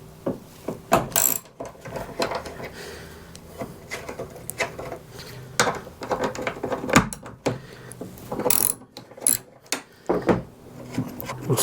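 A hand ratchet and mechanical clicks sound while bolts are removed from the tub of a Ford Ranger 4x4 ute, with irregular bursts of ratcheting, clunks and metallic handling close by throughout, and no talking.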